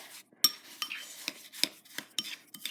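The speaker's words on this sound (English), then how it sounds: "Stir it in." A snow ice cream mixture of snow and milk is stirred in a bowl, with a spoon scraping and clinking in short repeated strokes, close and fairly quiet, with no talking.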